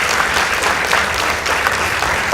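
Studio audience applause for two high school debate teams, Makueni Girls and Tala High, at a televised debate contest: steady, dense clapping filling the room throughout, with no voices over it.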